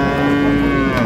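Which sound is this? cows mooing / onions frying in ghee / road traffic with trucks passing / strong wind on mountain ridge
cows mooing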